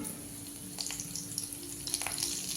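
Mustard seeds tipped into hot oil for an egg curry give a faint, steady sizzle with small scattered crackles and pops, no voices.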